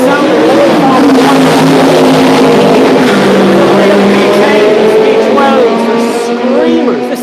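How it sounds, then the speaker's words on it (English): Loud, high-pitched engines of old Formula 1 race cars scream past in succession at Mondello race track, shrill sustained tones rising and falling as the cars speed by, with someone talking over them. "This is the way Formula 1 used to sound."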